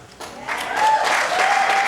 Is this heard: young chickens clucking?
no